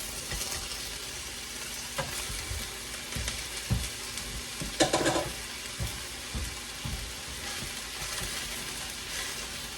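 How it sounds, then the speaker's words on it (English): Black beans with onion and garlic sizzle in a pan while a utensil stirs them, giving a steady frying hiss broken by scraping clicks and one louder scrape near the middle. "I'm just going to mix it up to get the onion and garlic off of the bottom and mixed into the beans"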